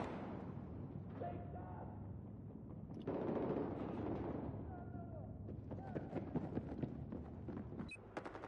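Shotgun fire in the video game Battlefield 4, several booming blasts and battle noise over a steady game background, with someone talking at times.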